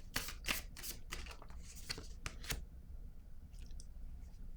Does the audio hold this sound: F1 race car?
no